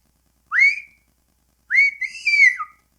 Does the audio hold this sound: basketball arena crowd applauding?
no